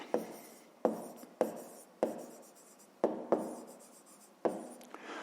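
A pen writes numbers during a fifth-grade maths exercise, making quiet, close scratching strokes, each starting with a sharp tap and fading, about eight in an uneven rhythm.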